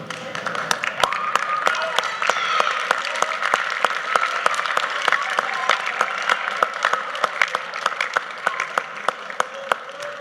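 Audience at a high school National Honor Society induction ceremony applauds the inductees' parents, a dense sustained round of clapping with sharp individual claps standing out throughout, steady and fairly close.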